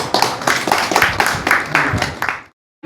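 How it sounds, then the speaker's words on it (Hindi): Loud applause from an audience at a Hindustani classical music event in Ambikapur, with dense clapping that ends abruptly after about two and a half seconds. "जोरदार ताली।"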